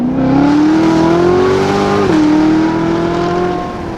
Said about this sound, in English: I do have the Corsa X pipes, definitely makes the car a lot louder.